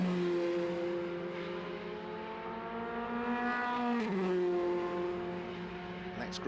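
Formula 3 race cars at Brands Hatch heading into Paddock Hill Bend roar past with droning, shifting engine notes that rise and fall as they approach and pass, with a commentator talking over the engine noise.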